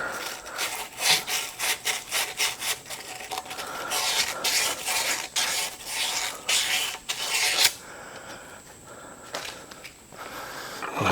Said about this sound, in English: So just a little bit of sandpaper will work.